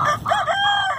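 Chickens, a mix of half-breeds that may include Ameraucana-type blue or green egg layers, cluck and croon inside a chicken tractor, with a short rooster-like crowing phrase at close range and no talk over it.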